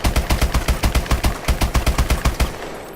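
Rapid automatic fire from an MK14 rifle in Call of Duty Advanced Warfare, a loud, steady burst of about sixteen evenly spaced sharp shots over roughly two and a half seconds, then stopping with a short fading tail.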